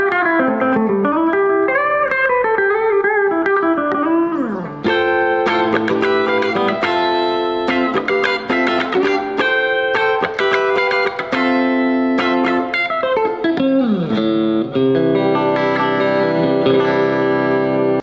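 An Ibanez AZ47P1QM electric guitar plays through a Blackstar HT20 amp on a clean tone with a touch of reverb, with bends, strummed chords and sustained notes ringing loud and clear, no talking.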